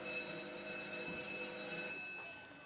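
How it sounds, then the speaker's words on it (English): A bright electric school bell rings continuously at moderate distance, its steady metallic tone stopping abruptly, leaving faint room noise. "that's a school bell"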